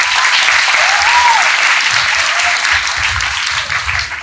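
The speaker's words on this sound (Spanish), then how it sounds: "vamos a pedir nuevamente fuertes aplausos para nuestros alumnos" An audience at a school ceremony applauds in loud, sustained clapping that fills the room and tapers slightly toward the end.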